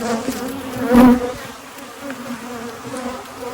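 Honey bees buzzing close by as a hive frame is inspected, a steady droning hum that swells briefly near one second, with no talk.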